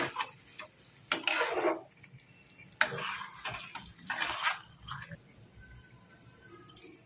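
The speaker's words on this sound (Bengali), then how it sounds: "এবার মশলার সাথে আমরা মাছগুলোকে ভালো করে মিলিয়ে নেব।" Bombay duck fish is being stirred into a spice masala in a pan, with intermittent scraping and clattering strokes of a spatula against the pan in short bursts over a quiet background.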